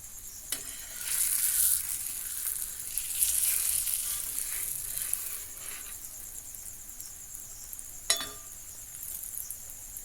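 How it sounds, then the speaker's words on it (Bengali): Aloo paratha frying in a little oil in a pan, a soft steady sizzle close by with a couple of sharp clicks from handling. "সমস্ত পরোটাগুলো এভাবে ভেজে নেব।"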